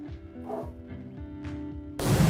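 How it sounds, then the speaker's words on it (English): Several dogs bark and yip in a home during a live stock-trading stream, scattered short barks with a loud crash or thump at the end. "I'm sorry if you guys are hearing my dogs wiling out."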